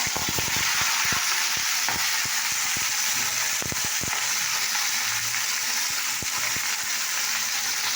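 Vegetables such as drumstick, beans, potato and tomato sizzle and fry steadily in a hot pan, a continuous loud crackling hiss with scattered sharp pops and stirring clatter throughout, no talk.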